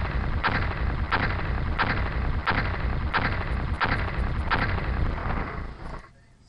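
Heavy booming blasts from a blaster launcher in the X-Com UFO Defense game repeat at a steady pace of about one per second, loud and continuous before cutting off abruptly at the end.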